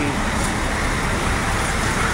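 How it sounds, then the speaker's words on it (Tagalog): Dense road traffic in a jam gives a constant broadband rumble and hiss of idling and creeping vehicles, loud and close throughout. "nasa gitna ng traffic"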